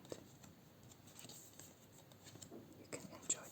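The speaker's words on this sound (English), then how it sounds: "You can enjoy the sound of me shuffling through the cards." Soft rustling and scraping of Terraforming Mars board game cards being shuffled and sorted by hand, quiet and close, with small irregular slides and taps and a brighter flick near the end.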